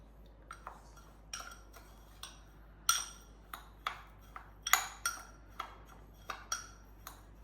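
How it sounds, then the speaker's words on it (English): A utensil clinks against a bowl while sweet potato ingredients are mixed, giving a string of light, irregular taps and scrapes, close and fairly faint, with no talk. "we're gonna mix this up together"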